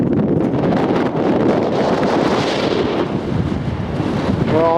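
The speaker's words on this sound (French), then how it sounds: "Un petit coup de vent et t'as perdu ta casquette." Gusty wind buffeting the microphone on a snowy mountain hike near Lake Louise, Canada, with a glacier below the ridge; a loud, continuous rushing roar that swells and eases, with no voices.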